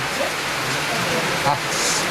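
Steady rain falls throughout an outdoor street protest of around fifty people, a constant broadband hiss that stays even and moderately loud, with faint voices in the background.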